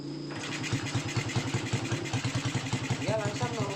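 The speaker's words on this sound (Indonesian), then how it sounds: "kita coba dulu engkol motornya supaya teman-teman tahu ya" An older Honda Supra motorcycle that lacks power at high revs, running just after a kick start, with a steady, close putter of its idling engine, rising briefly near the end, while a person talks over it.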